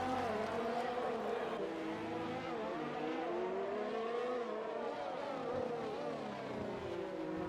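Racing cars in a video game round on the Baku street circuit in Azerbaijan, engines droning continuously with shifting pitch as they rev and change gear, steady and fairly loud throughout.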